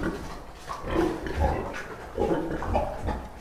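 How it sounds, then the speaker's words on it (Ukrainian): Young piglets grunt and snuffle at close range, with soft, irregular low grunts over a few seconds and some faint farmyard background noise. "Бачите, от як поросята, навіть маленькі поросята,"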